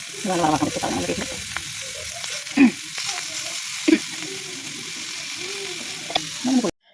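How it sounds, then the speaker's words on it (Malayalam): Mussels frying in oil on a stone pan make a steady close sizzle with a few sharp pops and clicks, while a voice talks over it. "ഇനി നമ്മുടെ കല്ലുമ്മക്കായ ഓരോന്നിട്ട് പൊരിച്ചെടുക്കാം"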